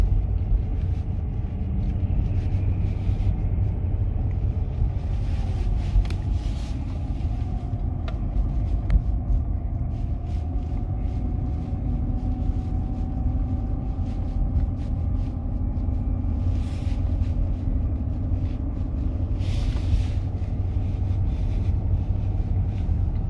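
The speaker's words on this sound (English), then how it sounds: "So we're driving, guys, and so far so good." A Mercedes S-Class W220 on coilover suspension drives along, with a steady low road rumble and cabin drone from inside the car and faint knocks and rattles over the road surface.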